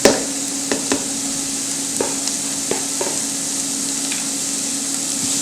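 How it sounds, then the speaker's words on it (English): Vegetables sweat in hot oil in a pan for a from-scratch meat sauce, making a steady, close sizzle with a few sharp utensil taps and stirring scrapes, and no one speaking. "we're going to sweat off our vegetables. So we just put those right in there"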